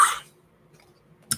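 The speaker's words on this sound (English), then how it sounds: "I'm going to cough again" A single sharp cough opens, followed by a quiet pause and then a second short cough or throat clear near the end.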